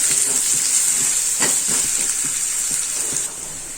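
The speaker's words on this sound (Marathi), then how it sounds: "आता मी ह्याच्यामध्ये थोडं तेल टाकणार आहे एवढं आणि ह्याला लाल रंग येईपर्यंत भाजून घेणार आहे." Onion frying in oil until browned, a loud steady hiss and sizzle with faint stirring clicks and no talking.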